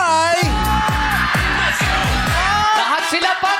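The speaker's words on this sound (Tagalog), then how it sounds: "Pero ang sigaw ng madlang people ay" A live studio audience on a Filipino noontime game show shouts together in a loud, sustained crowd roar, with bursts of yelling that swell and fade over a few seconds.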